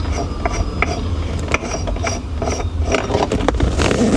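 A threaded ignition bezel on a Porsche 911SC is unscrewed by hand, giving close, steady ratcheting clicks and gritty scraping of metal threads, with no talking.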